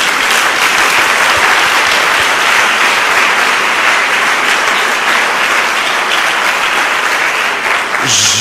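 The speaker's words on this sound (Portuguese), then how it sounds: "Dê uma salva de palmas ao Senhor." A church congregation gives sustained, loud applause to the Lord during a worship service, a dense, even wash of clapping lasting about eight seconds, with a voice breaking in at the very end.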